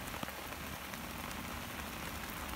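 Steady rain falls during an autumn carp-fishing session by a pond, a dense continuous patter on nearby surfaces with no talk.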